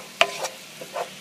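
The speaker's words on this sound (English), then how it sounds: "So I'm going to stir." Cooking meat for an enchilada pie gets a quick stir in a pan, one sharp scrape followed by a few softer scuffs over a faint sizzle.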